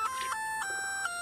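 Mama's codec ringtone from the video game Death Stranding, a soft electronic melody of a few sustained tones stepping between pitches, quiet and clear with no voices.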